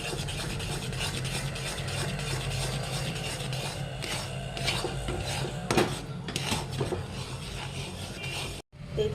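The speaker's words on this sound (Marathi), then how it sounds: "आता आपण तर बघा असं घट्ट व्हायला लागलेलं आहे, तर त्याला सतत हलवत राहायचं." A thickening kalakand mixture of milk powder is stirred continuously in a pan, with rhythmic scraping and metallic rasping of a spoon against the pan, fairly close and without speech.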